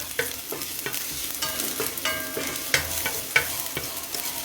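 Crispy chow mein noodles stirred in a hot pan, giving a steady frying sizzle broken by repeated scraping and clacking strokes of the utensil, close up and alone with no talk.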